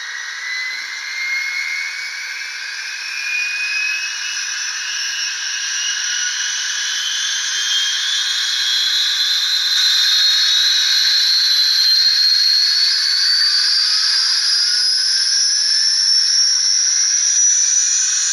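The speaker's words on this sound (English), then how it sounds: "So we hit 3 to start up the gas turbine." A DCC sound-equipped Athearn Union Pacific gas turbine model locomotive spins up, its steady jet-like whine and hiss climbing gradually in pitch and growing slightly louder over about eighteen seconds, with no talking.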